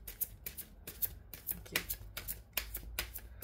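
Playing cards being shuffled and drawn, a series of quick crisp riffling bursts repeating in an uneven rhythm, close and fairly quiet, with no talk.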